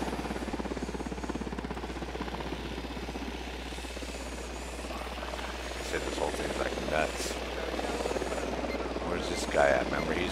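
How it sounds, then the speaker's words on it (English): Drone in Ghost Recon Wildlands hovering overhead, a steady rotor-like drone and low hum running throughout, with people talking over it. "The drone is up."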